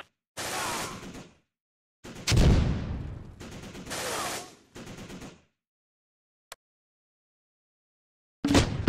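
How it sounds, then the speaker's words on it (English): Heavy gunfire from the Close Combat World War II strategy game at Sword Beach comes in sharp, loud bursts separated by silent gaps, with a single brief crack in between. "We're under heavy fire."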